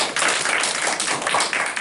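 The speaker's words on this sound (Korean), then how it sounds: "김순애 권사님 위해서 박수" A church congregation claps together, a dense, steady patter of many hands filling the room for a couple of seconds without talk.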